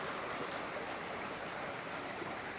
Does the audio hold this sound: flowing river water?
yes